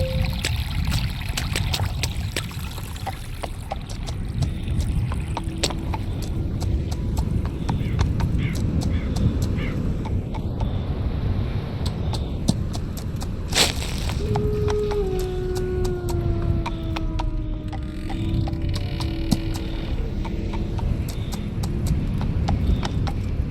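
An anxious horse's hooves clip-clop steadily along a mountain road, with a muffled voice speaking underneath and a brief whinny-like tone partway through.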